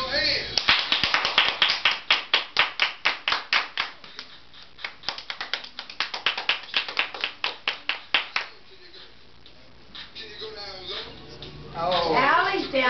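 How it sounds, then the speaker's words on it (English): A group claps hands along to a children's dance song, a steady rhythmic run of sharp claps for about eight seconds, then the clapping thins out as voices and music take over toward the end. "Everybody clap your hands."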